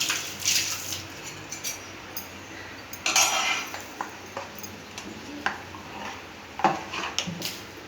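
Pans and metal utensils clink and scrape in a home kitchen while dosa is cooked, giving sparse, irregular light knocks and chinks over a low background hiss, with no talking.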